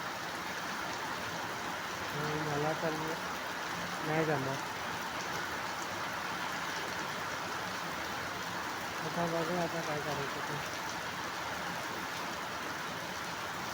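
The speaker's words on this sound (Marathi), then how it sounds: "मला इथे पाऊस तर आहे तर आहेच" Steady, dense monsoon rain in Mumbai and Nalasopara hisses throughout, loud and close, while a person speaks in a couple of short bursts over it.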